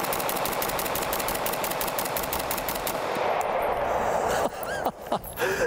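A SCAR 20S rifle fires a full magazine of about 20 rounds in a rapid, steady string of loud reports for around three seconds, followed by quieter clatter and handling noises.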